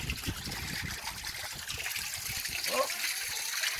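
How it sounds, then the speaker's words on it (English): Water trickling and running through a channel toward a camel drinking place, a steady close splashing flow heard under someone talking. "This is now where the water is running."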